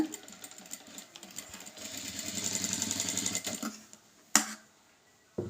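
A sewing machine stitches a blouse lining, whirring in a quiet rapid run for about two seconds before slowing to a stop, followed by a sharp click and a second click near the end.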